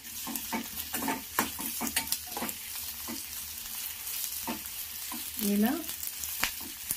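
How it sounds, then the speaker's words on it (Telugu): Chopped onions and curry leaves fry in a pan with a steady close sizzle, punctuated by repeated scraping stirs, and a voice briefly speaks. "ఇందులోకి తర్వాత కరివేపాకు వేసుకోవాలి. వేసుకొని ఇలా ఫ్రై చేసుకోవాలి."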